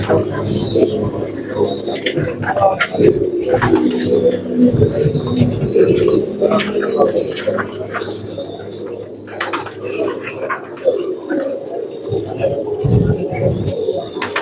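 A red phanair pigeon coos in low, repeated burbling calls, close by, with chirps, occasional wing sounds and other birds around, and someone talking over parts of it.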